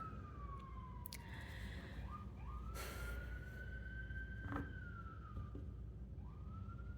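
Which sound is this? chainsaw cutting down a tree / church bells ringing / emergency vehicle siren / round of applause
emergency vehicle siren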